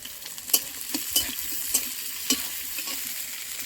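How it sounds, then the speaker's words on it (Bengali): Chopped onion sizzles in hot oil while being stirred, a continuous close frying hiss broken by several sharp scrapes of a spatula on the pan, with no one speaking. "আমার তেলটা গরম হয়ে গেছে, আমি দিয়ে দেবো পেঁয়াজ কুচি"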